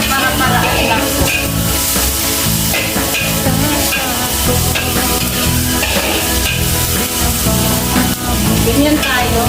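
Garlic sautéing in a pan in a small home kitchen while cooking spaghetti, a loud, continuous close-up sizzle and crackle with scraping stir sounds running throughout.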